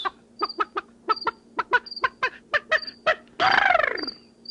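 A man imitates goose-like honking bird calls with his voice, giving a string of a dozen or so sharp, close, rhythmic honks that ends in a longer, louder squawk, with no talking.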